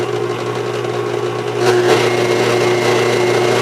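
An electric mixer whirs steadily close by, blending strawberry cream cheese frosting, its pitch and loudness rising slightly partway through.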